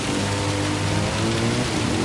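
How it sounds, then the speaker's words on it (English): Heavy rain drums steadily as a dense, constant roar heard onboard a BTCC touring car during a wet race, loud and unbroken throughout. "You can see the rain hammering down."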